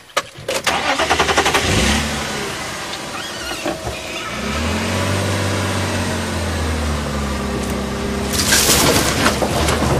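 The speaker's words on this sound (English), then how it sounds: "just give me a bit of a rev." Safari game-drive vehicle engine starts with a rough crank, then settles into a steady idle and rises into a sustained rev that swells loudly toward the end, close and alone.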